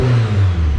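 A turbocharged car engine revs steadily and loudly up close, with a strong low drone and a faint whir on top, holding for under a second with no voices.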